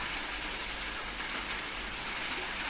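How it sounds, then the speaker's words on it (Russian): A heavy rain shower with large raindrops falls after a hot summer day in Jelgava, a steady, dense hiss with no voices. "где-то 11 минут идет дождик, не переставая"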